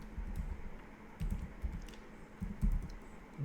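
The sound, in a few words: typing Python code on a computer keyboard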